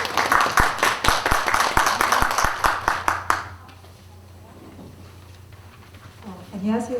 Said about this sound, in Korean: 교수님 박수로 오늘 수업 시작하도록 하겠습니다.